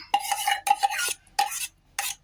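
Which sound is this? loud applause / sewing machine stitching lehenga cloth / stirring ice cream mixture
stirring ice cream mixture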